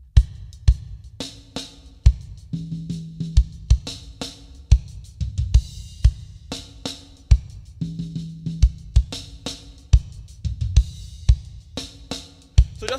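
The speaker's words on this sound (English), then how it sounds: "sometimes you hear him alternate the kick pattern, it sounds something like this." Drum kit groove whose kick pattern alternates under steady hi-hat and crisp snare hits, a repeating rhythm played close and loud.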